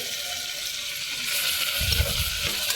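Chopped potato and brinjal fry in a pan with a steady, broad sizzling hiss, joined near the end by a few low thuds of stirring.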